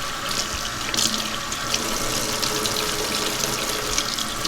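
Warm water runs steadily from a sink tap, a loud, even gush with no break, as a tie-dye shirt is rinsed and unbanded beneath it.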